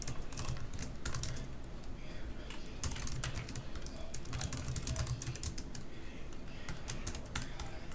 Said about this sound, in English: Sorry for more typing.